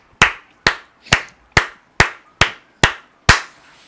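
A church congregation gives an offering of acclamation: eight sharp, evenly spaced claps, loud and close, each cut off crisply with silence between.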